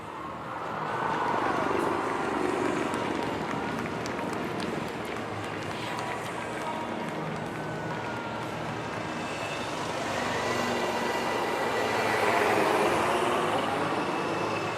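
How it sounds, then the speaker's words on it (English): Helicopters of the Sarang Helicopter Display Team fly an aerial display at an Indian Air Force anniversary event, a broad continuous rumble that swells and fades as they pass, with voices faintly underneath. "So this was Sarang Helicopter Display Team"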